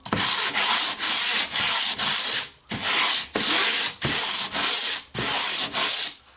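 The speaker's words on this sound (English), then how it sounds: "We'll just give it a quick light sand." Hand sanding of drywall mud on a wall repair, rough scratchy strokes repeated in a steady back-and-forth rhythm, loud and close with brief gaps between passes.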